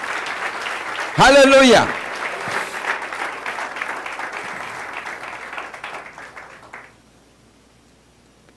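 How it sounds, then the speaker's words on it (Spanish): Church congregation applauding, a dense wash of clapping across the room with a loud shout of praise early on, then fading out toward the end. "Alguien tiene que aplaudir eso"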